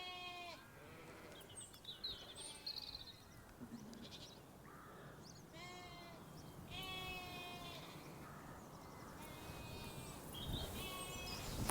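Sheep bleat repeatedly in a field near a rural Irish village, several calls near and far with steady breezy background noise and no speech.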